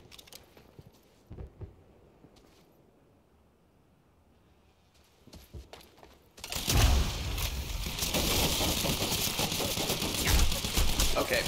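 An enemy turret in the video game Quantum Break opens fire after several quiet seconds with a few faint clicks, then becomes a loud, dense, sustained burst of automatic gunfire that continues to the end.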